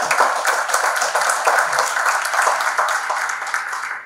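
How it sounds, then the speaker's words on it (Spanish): Audience applause at a lecture, steady clapping from a room of listeners that holds evenly for several seconds before fading at the end. "recibimos nuevamente un aplauso de ustedes a Rafael Venegas Arias"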